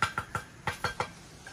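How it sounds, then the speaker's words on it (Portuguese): Chickens scratching and pecking the ground among banana plants on a rural property, giving six short scraping, rustling bursts in an irregular rhythm, close by and fairly faint, with no voices. "Essa zoada é as galinhas aqui ciscando."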